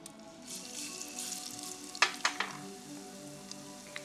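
Garlic sizzles and fries in a pan for a vegetable mince stew, a steady close crackling hiss with a few sharper pops and stirring clinks partway through.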